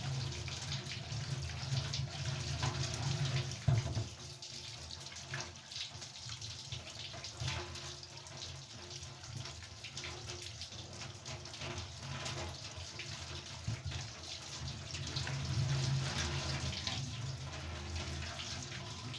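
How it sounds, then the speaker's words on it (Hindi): Tap water streams steadily into a kitchen sink as raw meat is washed, a continuous close rushing hiss with small splashes and one clunk, and no voices. "गोश्त को धो लूँ।"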